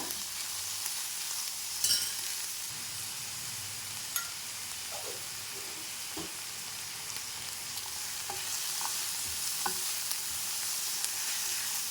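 Dried red chillies, curry leaves and turmeric fry in hot oil in a pan for lemon rice, a steady close sizzle with a few light stirring clicks.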